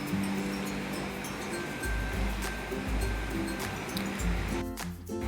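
Wheat flour Mangalore buns frying in hot oil make a steady, dense sizzling hiss that stays loud and continuous throughout, with low bubbling rumbles underneath.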